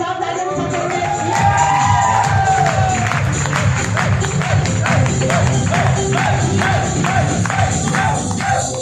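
An audience at a meeting breaks into enthusiastic clapping with some cheering and crowd noise, the applause loud and continuous, with a few voices rising over it near the start.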